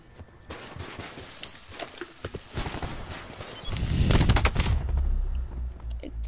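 Rapid video game gunfire rattles in quick irregular bursts, building denser and louder midway with a low rumble underneath, then thinning out.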